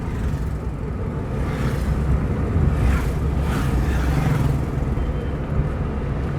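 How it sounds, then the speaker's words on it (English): Manual car engine pulling steadily at about 40 as the driver shifts from second to third gear, a continuous low rumble with broad road and cabin noise and a slight swell near the middle, no talking. "Now the speed is around 40, and now I will upshift from second to third."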